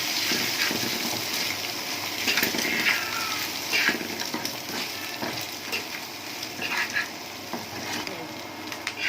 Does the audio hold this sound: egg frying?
yes